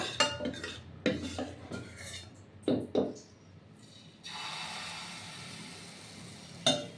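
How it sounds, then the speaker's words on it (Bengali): Patishapta batter being worked in an oiled pan with a utensil, several close scraping and tapping knocks followed by a soft steady sizzle, no talking. "এবার একটু তেল দিয়ে নেড়ে নিতে হয়"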